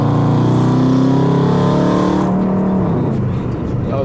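A Dodge SRT8 engine pulls hard under light acceleration, a loud, close rising roar that climbs in pitch for a few seconds and then eases off into a lower rumble.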